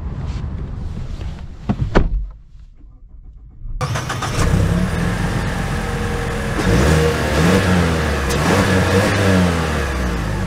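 A Mazda CX-50 engine starts and pulls away, its steady mid-pitched drone rising and building through the drive after a brief quiet moment, close and continuous with no talking.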